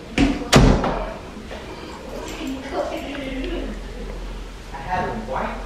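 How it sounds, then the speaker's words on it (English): A door is shut with two sharp knocking impacts near the start, followed by quieter room noise with a person talking and a faint cooing bird. "I'm gonna close the door."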